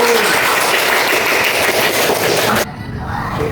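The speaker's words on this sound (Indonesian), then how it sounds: "Iya, kasih tepuk tangan dulu" Loud, dense applause from the audience at an Indonesian lecture on the spread of Islam, a continuous wash of clapping that cuts off abruptly near the end, leaving a quieter room.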